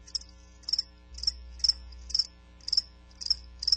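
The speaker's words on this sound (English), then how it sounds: "That's right, crickets." Crickets chirp in short, bright, evenly spaced bursts, about two per second, against a quiet low hum.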